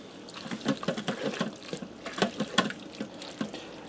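Baked beans with pinto beans are stirred in a pressure cooker, giving wet, sloshing, squelching sounds in an uneven rhythm, close and moderately loud.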